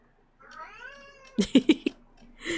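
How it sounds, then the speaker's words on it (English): A pet cat named Filka meows, one long rising meow followed by a quick run of short chirping cries and a final meow, close and clear with nothing else in the background. "when Filka meows, he sounds like he's saying like meow."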